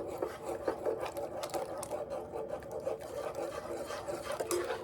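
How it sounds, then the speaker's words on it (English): A whisk stirs coconut cream pie filling of eggs and liquid in a pan, making a steady, continuous scraping and swishing against the metal, close and even throughout with no talking. "Now I'm going to whisk all this together in here in the pan."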